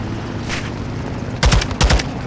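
Gunfire in Call of Duty Modern Warfare 2 rings out as a couple of short, loud bursts of rapid shots, close and punchy, with no talking.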